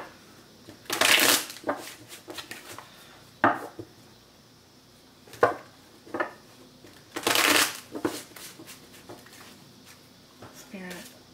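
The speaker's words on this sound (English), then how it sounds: "Let's do a couple more shuffles." Tarot cards shuffled by hand in short separate bursts of riffling and shuffling with quiet gaps between them, heard close and fairly soft.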